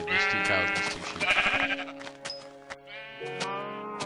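Sheep in the Minecraft video game bleat several times in quick succession, clear, close and alone, with a couple of drawn-out bleats near the end.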